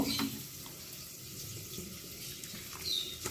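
Water trickles steadily into a small bowl of spice powder being mixed by hand into a paste for a Bengali potato and pointed gourd curry with soaked chickpeas, a soft continuous close-up splashing with no talk.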